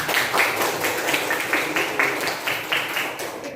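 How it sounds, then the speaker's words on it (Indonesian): Students in a junior Islamic school classroom give a round of applause: steady, dense clapping from a group that carries evenly through the clip with no voices over it. "Boleh tepuk tangan untuk"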